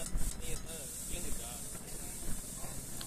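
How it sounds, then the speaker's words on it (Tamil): Mutton chukka fries in a pan for street-style mutton kalakki, giving a steady, soft sizzling hiss with faint crackles, while someone talks over it. "மட்டன் சுக்காவை போட்டு நல்லா ஃப்ரை பண்ணிக்கலாம்"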